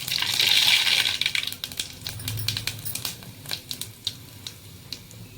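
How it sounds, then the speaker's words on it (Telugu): Mustard seeds and cumin hit hot oil in a pan, setting off a loud burst of sizzling that fades into rapid scattered pops and crackles, close up with no voices. "నూనె వేడెక్కింది. ఇందులో ఆవాలు జీలకర్ర వేస్తున్నా."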